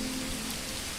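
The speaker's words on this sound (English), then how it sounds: "Of course, it's going to be raining in June." Steady rain in the medieval city-building game Manor Lords, an even broadband hiss of falling drops continuing without a break for the full second.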